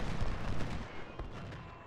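Gunfire aimed at Civil War artillery in Ultimate General: Civil War, a dense rumble of overlapping musket and cannon shots, loudest in the first second and then thinning into a steady crackle.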